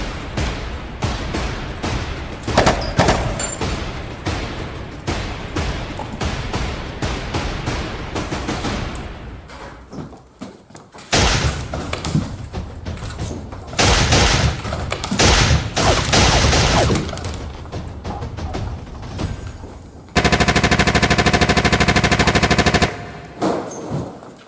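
Automatic gunfire in a teen-made film scene, with sustained loud bursts of rapid shots broken by brief pauses before a final dense volley that stops abruptly as the weapons run dry.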